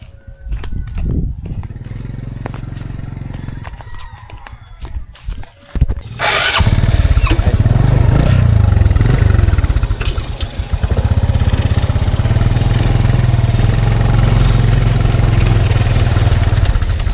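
A motorcycle carries a passenger down a rough road with gravel laid before cement. The engine runs loudly and close, dips for a few seconds, then roars back up to a sustained throttle.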